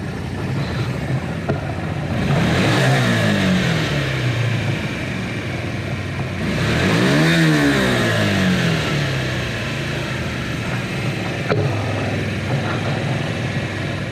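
A Honda Varadero motorcycle engine, freshly serviced with carburetion and air filter work, revs twice in strong, rising-and-falling throttle blips over a steady idle, loud and close with no talking.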